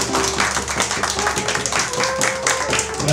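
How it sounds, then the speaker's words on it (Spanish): Applause at a serenade, a continuous dense wash of clapping from a nearby crowd with music tones running underneath. "Bravo, bravo, bravo, fuerte el aplauso"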